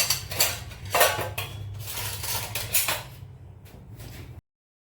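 A metal spoon clatters and scrapes against a tawa griddle pan during cooking, giving irregular close clinks and knocks over a low hum before cutting to silence.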